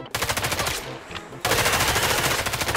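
Rapid automatic gunfire from a video game hammers in loud, close bursts, with a short gap and then a sustained stream of shots.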